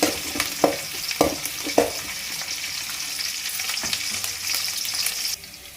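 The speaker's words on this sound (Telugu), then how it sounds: "ఈ ఆనియన్స్ అంతా బాగా ఫ్రై చేసుకున్నాం ఆయిల్లో." Onions sizzle in hot oil with mustard seeds and curry leaves, a loud, close frying hiss broken by a few stirring scrapes early on, which then settles into a steady crackle.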